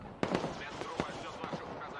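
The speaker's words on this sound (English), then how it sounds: "Artillery firing from here." Artillery guns firing in the combined-arms war game Broken Arrow during an urban multiplayer battle: a few sharp, distant booms spaced across a couple of seconds over a busy background, with a voice speaking underneath.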